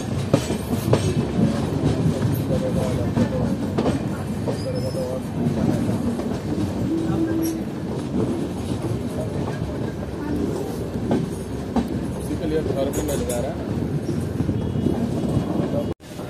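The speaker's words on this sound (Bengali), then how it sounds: "যখন আমাদের ট্রেন মেন লাইন থেকে বাফার লাইনে নিচ্ছে" The Shantiniketan Express rolls from the main line onto a buffer line with loud continuous rumble and clickety-clack of wheels over the rail joints, plus occasional squeals, heard from on board under intermittent talk.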